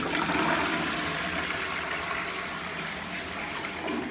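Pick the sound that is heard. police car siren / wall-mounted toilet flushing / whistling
wall-mounted toilet flushing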